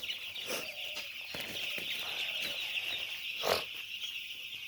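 Farm chickens wander about in the morning, giving a few faint scattered clucks over a constant high insect-like drone in the background, with no talk.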